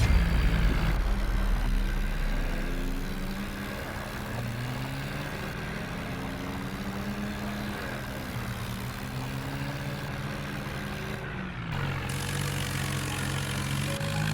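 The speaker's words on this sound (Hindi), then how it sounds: "दूसरा ट्रैक्टर मौके पर पहुंच जाता है।" Video-game tractor engines strain while pulling a bus stuck after rain, producing a continuous, moderately loud engine drone whose pitch repeatedly rises and falls as the engines rev.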